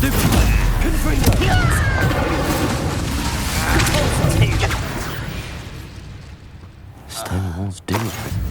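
Confringo spell blasts in the Hogwarts Legacy video game, heavy booming bursts and crashing debris that roll on loudly for several seconds before fading, with a voice shouting over the action.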